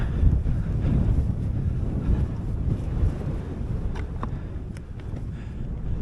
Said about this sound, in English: As you can probably hear, that wind is starting to pick up